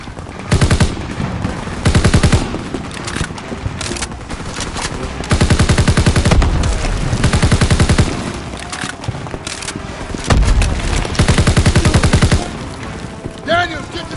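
Suppressive machine gun fire in Call of Duty, long loud rapid bursts of automatic fire separated by short pauses, with distant battle rumble between volleys.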